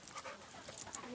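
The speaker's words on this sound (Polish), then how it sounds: "Ten pies jest bardzo szalony." A large, excitable dog pants in quick, faint, breathy puffs close by, with no voices over it.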